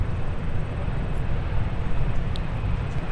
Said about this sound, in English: They're also some of the loudest takeoffs we get to witness here at MSP.